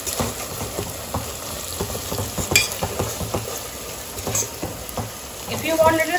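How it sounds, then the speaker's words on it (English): Onions frying with turmeric powder in a pan for Goan mutton xacuti, a steady moderate sizzle with intermittent stirring clinks and scrapes throughout, close and unaccompanied by speech. "And you can see the onion is nicely frying."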